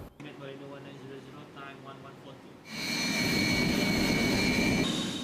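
Sukhoi Su-30MKM fighter jet of the Malaysian air force, starting with a tonal whine and hum before a loud jet engine roar surges in and holds with a high whistling tone, with a voice speaking over part of it.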